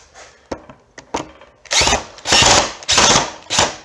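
A power drill backs screws out of an A123 battery pack, with short whirring bursts of rising length after a few clicks and taps, close and loud.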